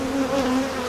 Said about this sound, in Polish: Pszczoła lotna zlatuje się, wzmacnia odkład.